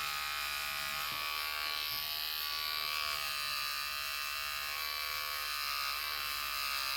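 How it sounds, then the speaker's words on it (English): An electric shaver buzzes continuously at close range trimming sheepskin wool, a steady high whine with slight shifts in pitch as it cuts. "you can use scissors, or I like to use a shaver"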